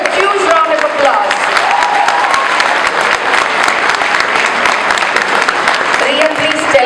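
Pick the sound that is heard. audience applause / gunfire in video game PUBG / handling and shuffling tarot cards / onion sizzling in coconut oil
audience applause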